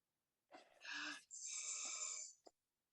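A person breathes out in a long hissing rush to imitate a snake, a close, airy hiss with a short rasping start and a brief sniff at the end.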